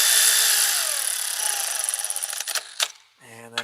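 A power tool runs a spark plug into a Mercedes engine: a long steady whir that tapers and slows, then stutters in short bursts and stops, close and fairly loud.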